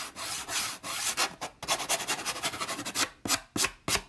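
Close, rhythmic rasping of sandpaper rubbed by hand across wood, in short uneven strokes with brief pauses between them.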